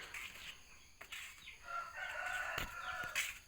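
A rooster crows faintly in the distance amid outdoor ambience, with a few soft clucks and rustling noises around it.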